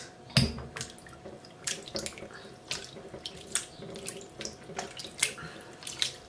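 Cherries rinsed under a running kitchen tap before a five-minute soak, with a steady stream of water in a sink and frequent sharp splashes and clinks close by, without any talk.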